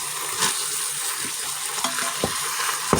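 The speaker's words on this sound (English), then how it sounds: "So we're going to brown the hamburger with the salt, pepper, garlic, and chili powder in it." Hamburger meat browning in a pan with salt, pepper, garlic and chili powder for chili: a continuous close sizzle with a few light utensil scrapes and clicks, no talking.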